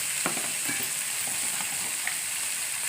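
Tomatoes, chillies and coconut pieces stir-fried in a pan give a soft, continuous sizzle with a few light clicks of the spoon, close and quiet, with no talking.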